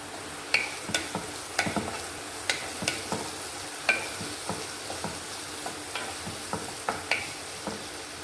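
Onions sautéing in a pan for Muslim-style liver gravy, with a spoon scraping and stirring in uneven clicks over a soft, steady sizzle, close and alone.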